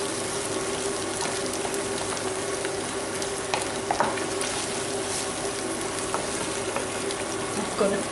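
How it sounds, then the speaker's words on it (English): Whole grain mustard being stirred into tender shallots in a pan, a steady close sizzle with soft scraping strokes and occasional clicks of the utensil. "And stir that in"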